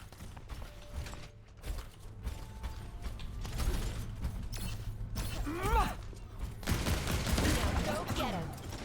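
Gunfire and ability effects from the Overwatch video game, dense bursts and mechanical clicks layered over game voice lines and music, fairly loud and continuous throughout.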